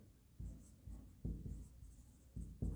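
Chalk or marker strokes on a board sound close and soft, a few separate scratching touches spaced irregularly over a low room hum, with no voice.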